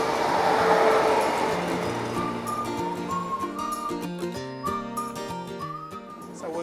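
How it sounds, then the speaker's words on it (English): A train at a railway station platform sounds with tonal whistling, shifting pitched squeals and rumble, fairly loud and close, gradually easing off. "you can see there is a train on another track"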